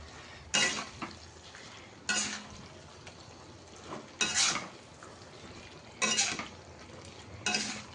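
Pointed gourd being stirred in a heavy wok: periodic scraping strokes about every two seconds, each a bright clatter of spatula on metal, with a low frying sizzle running underneath.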